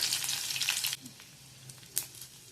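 Mustard seeds sizzling in hot oil in a kadhai, a bright crackling hiss that drops off after a second, then quieter sputters with a sharp pop burst near the end.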